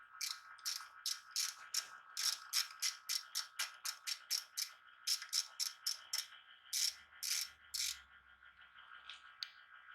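A socket ratchet works loose the 12 mm engine oil drain bolt on a Mametora cultivator, giving a long run of rapid, evenly spaced metallic clicks close by, with brief pauses between bursts and no talking.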